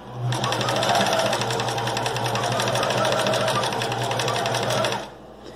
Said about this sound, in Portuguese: A gente vai fazer uma costura reta até o final dessa linha todinha